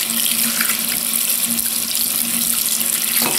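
A Dove beauty cream bar is washed under a running tap: a loud, steady stream of water splashes continuously into a sink close by, with faint handling noises and no talking.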